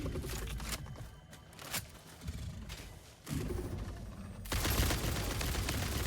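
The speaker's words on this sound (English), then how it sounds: "wait, homing rifle is amazing" Rapid bursts of rifle gunfire from a homing rifle in the factory-building video game Satisfactory, dense and steady with a louder stretch toward the end, no voices.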